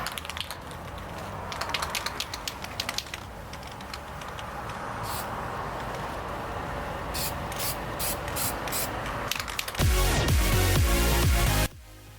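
Aerosol spray can laying black paint over primer on a Lotus Elise rear diffuser: steady hissing bursts with short pauses, ending in a louder, coarser spray near the end.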